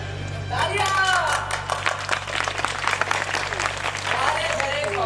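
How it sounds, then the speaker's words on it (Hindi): Audience clapping at an amateur stage play, loud and close, in a sustained burst of many hands while voices sing and talk over the applause. "तालियां!"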